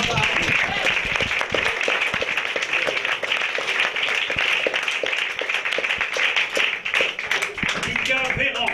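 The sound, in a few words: audience applauding a comedian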